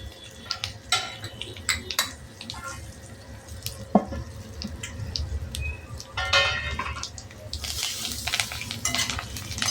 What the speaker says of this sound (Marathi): कोथिंबीर पण छान तळली जाते. छान आवाज येते.